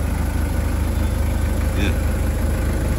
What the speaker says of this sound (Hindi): साउंड सुने तो आपको अंदाजा होगा कि क्या साउंड है गाड़ी का।